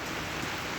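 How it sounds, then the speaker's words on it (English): Heavy rain pouring down during a big storm in Uganda, a dense steady hiss of drops striking surfaces, close and continuous with no talking. "we have a great big storm going on at the moment, all around us here, and it's pouring down with rain"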